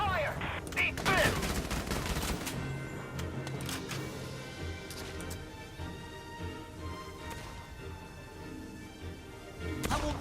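Gunfire in the video game Valkyria Chronicles 4: a burst of sharp, loud shots up front, then ongoing scattered rifle and machine-gun fire under a battle soundtrack, with another close volley near the end.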